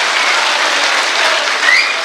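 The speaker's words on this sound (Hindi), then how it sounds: "एक बार जोरदार तालियों से आप अपनी मौजूदगी दर्ज कराइए" Loud, dense audience applause at a Hindi poetry mushaira, close and continuous for a couple of seconds, with a brief whistle or cheer rising near the end.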